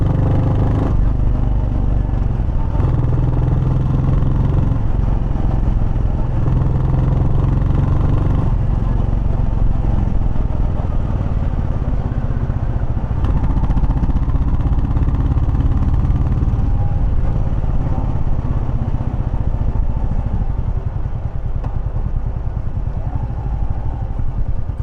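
Motorcycle exhaust captured with two wireless microphones on a rider's motovlog setup, a loud continuous engine drone and rumble throughout while riding, with wind and road clatter mixed in.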